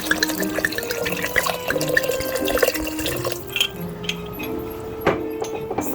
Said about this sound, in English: I'm going to pour some more water in here